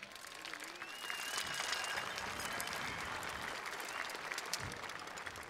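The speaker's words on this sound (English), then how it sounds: "Fellow graduates, please give a round of applause for all the teachers here tonight." Audience applause for teachers at the 2019 Weslaco East High School graduation ceremony, a steady dense wash of clapping from a large crowd filling the whole stretch, with a few cheers and whistles rising over it.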